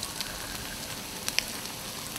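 Pork belly sizzling on a grill at a budget restaurant, a steady crackling fry hiss with a few sharp pops, close and continuous.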